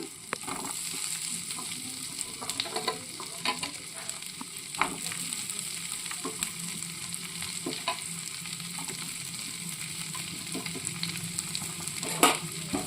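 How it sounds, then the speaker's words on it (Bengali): Onion and capsicum fry lightly in a pan for a white sauce pasta, giving a steady soft sizzle with scattered stirring clicks and scrapes throughout, no voices. "একটু ভেজে নেব হালকাভাবে প্রথমে দিয়ে দিলাম পেঁয়াজ তারপরে দেবো ক্যাপসিকাম"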